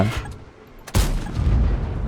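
Tank cannon firing in the World of Tanks video game, a single sharp blast cutting in just under a second in, followed by a lingering low rumble.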